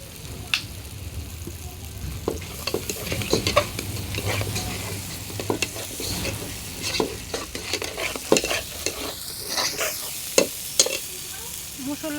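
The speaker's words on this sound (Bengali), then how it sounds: "একটু পানি দিয়ে ভালোভাবে কষিয়ে নেব" Ground turmeric, chili, coriander and salt with a splash of water get stirred and sautéed in a pan for chicken and potato curry, a close sizzle broken by repeated sharp spatula scrapes and knocks, with no talk.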